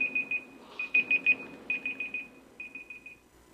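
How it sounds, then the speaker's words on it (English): A phone timer beeps in quick bursts of short, steady electronic tones, repeating in clusters with brief gaps between them, fairly clear over a low murmur of room noise. "That's my timer."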